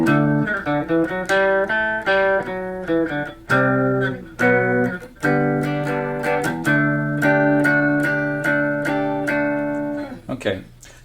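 A guitar plays the chorus of a song in a sequence of ringing, sustained chords and picked notes. The chords are struck loud and close, with brief gaps between some phrases.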